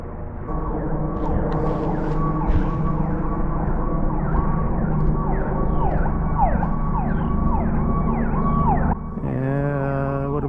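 A fire truck siren wails loudly in repeated rising and falling sweeps, with road traffic beneath it, then shifts to a different steady tone near the end as the vehicle passes close by.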